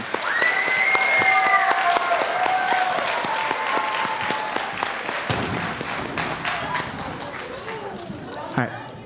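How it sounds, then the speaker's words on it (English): A school band holiday concert crowd breaks into loud, sustained applause for the band boosters, with cheers and a whistle rising over the clapping before it gradually thins out. "a huge shout out and round of applause for the band boosters"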